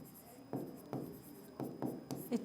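Writing on a board during a Hindi literature lesson gives a run of short, scratchy strokes, five or six quick bursts close by, with no talk in between.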